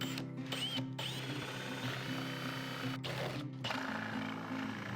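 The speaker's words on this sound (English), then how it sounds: "that's where I'm going to drill my hole for my Forstner with my Forstner bit" A power drill spins a Forstner bit into 1 by 7 1/4 wood board, a steady close whirring grind with a couple of brief pauses and restarts, no talk.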